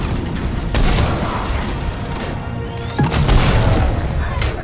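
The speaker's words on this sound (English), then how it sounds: "These grenades are annoying." Grenade explosions in Mass Effect 3, with heavy booming blasts, one early and another louder burst later, over continuous rumbling combat noise.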